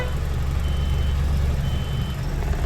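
A truck's diesel engine rumbles steadily at close range while a reversing alarm beeps over the drone, a loud and continuous low roar with no talking.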